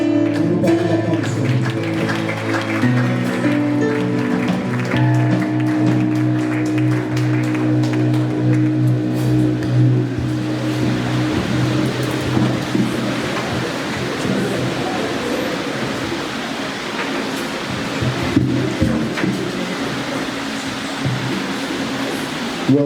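Congregation at a wedding blessing service applauding to welcome the apostle: a steady wash of clapping mixed with music, continuous and fairly loud throughout, with some voices underneath.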